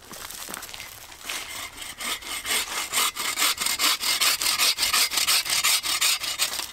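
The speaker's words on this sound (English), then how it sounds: "Like that, and you got yourself a nice handsaw." An improvised handsaw cuts through wood out in the wilderness, starting with a few light scrapes and then settling into steady, loud back-and-forth strokes that repeat in a fast, even rhythm close by.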